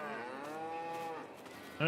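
A beef cow gives a single drawn-out moo lasting over a second, fairly close and clear, followed by a brief louder bump of sound at the end.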